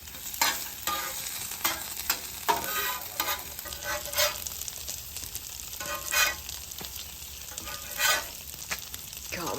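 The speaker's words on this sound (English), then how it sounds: "Pancakes are ready to flip." Pancakes fry on a Halo griddle with a steady close sizzle, and a spatula scrapes and taps the flat top at intervals.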